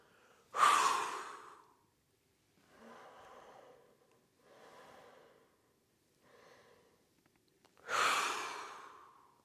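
Deep breaths during a yoga breathing exercise: a strong rushing breath opens and another closes, with three softer, evenly spaced breaths in between, all close and quiet.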